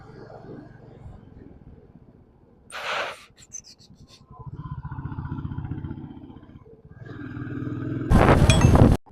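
A motorcycle climbing a hill road on a solo travel ride, its engine rising and falling in uneven surges with a loud rumbling push near the end, wind noise and a voice heard over it.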